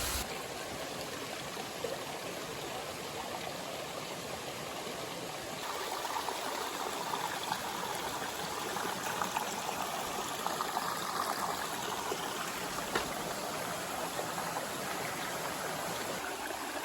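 A clear mountain stream on the Appalachian Trail in Maine rushes and splashes in a steady, close, continuous wash of water, with no voices.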